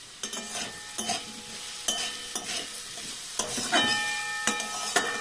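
Dried Bombay duck (lote shutki) sautéed with jaggery in a pan, heard as repeated spatula scrapes and knocks against the pan every second or so over a soft sizzle, close and steady.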